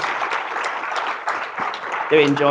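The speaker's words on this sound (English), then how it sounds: "one last round of applause, I think, for the speakers" Steady audience applause for speakers at a DSO conference fills the room at moderate volume, then a voice begins talking over the clapping near the end.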